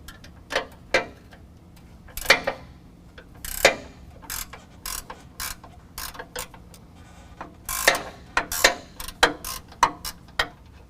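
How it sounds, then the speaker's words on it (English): A ratchet backing out 15 mm bolts from the front bumper bracket on a 2019 GMC Sierra 1500: bursts of rapid clicking come in short irregular runs with brief pauses, loud and close, with no speech. "I've got 2 bolts that need to come out of here and pull those out both with a 15 millimeter as well"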